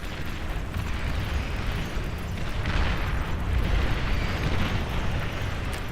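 Bombing explosions in the real-time strategy game Beyond All Reason, a dense continuous rumble of overlapping booms and blasts that swells slightly midway, with no talk.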